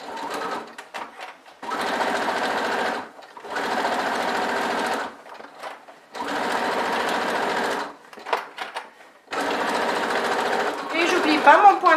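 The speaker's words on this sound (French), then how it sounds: "Et c'est reparti pour ma couture." A domestic sewing machine stitches a fabric handbag seam in bursts, with four steady whirring runs separated by brief pauses, close and clear, and someone speaks briefly in the gaps.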